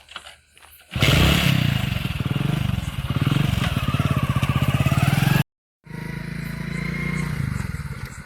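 A motorcycle rides up close with a loud, throbbing engine roar. The sound cuts out abruptly for a moment, then resumes at a steady idle-like rumble.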